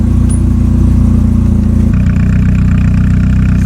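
A cold Triumph Spitfire engine with a Monza exhaust idles loud and close, a steady low burbling throb with a slight shift in tone midway, no voices.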